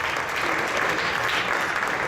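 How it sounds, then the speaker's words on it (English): An audience at the Festival of India in Toronto gives a round of applause for a performer, a full, continuous burst of clapping close and loud throughout. "So if you can give a nice round of applause for Bhaktimag Swami"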